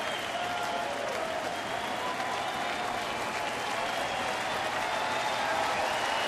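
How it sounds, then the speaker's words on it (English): A sellout crowd of about 41,000 at a Tigers baseball ballpark in Detroit cheering and applauding, a dense, steady roar of clapping and voices that holds at full volume throughout. "Here comes the crowd."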